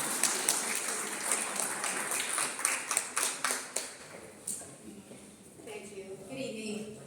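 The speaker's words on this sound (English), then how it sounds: "Round of applause for Ms. Perez" A round of applause at a neighborhood civic association's meet-the-candidates event: a few seconds of scattered, light clapping with distinct individual claps that fades into quiet room murmur.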